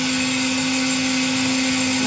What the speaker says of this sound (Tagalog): Nagbe-blend kasi ako ng pagkain ng aking alaga din.